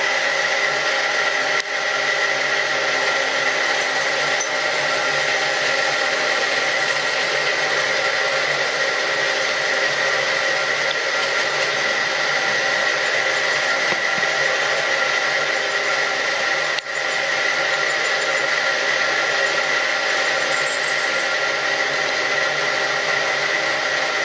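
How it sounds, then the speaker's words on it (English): A milling machine cuts a part for a camera tripod: a steady, loud whine with a constant tone runs unbroken through the whole stretch, with no talk. "So let's start milling."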